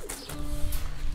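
Fighter pigeons coo softly nearby in a short, continuous murmur over a low background hum, with no voices.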